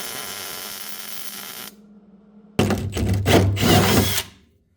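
A power tool drives 3/8 threaded inserts into a car floor pan, a sustained close whir, a short pause, then a louder rough burst of grinding and straining before it cuts off.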